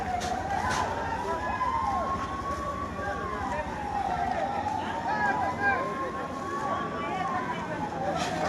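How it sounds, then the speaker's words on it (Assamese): A fire brigade vehicle arrives at a shop fire in Cholguri market near Sapjuri, its siren wailing steadily up and down, loud and continuous over a busy background rumble. "আৰু এখন ইতিমধ্যে অগ্নিনিৰ্বাপক বাহিনীৰ গাড়ী আহি উপস্থিত হৈছে এই ঠাইত"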